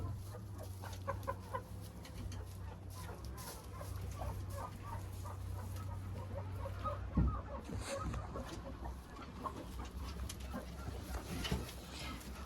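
Hens cluck steadily in a chicken coop, with repeated close and mid-distance clucks over a constant low hum and rustling, plus one brief louder thump partway through.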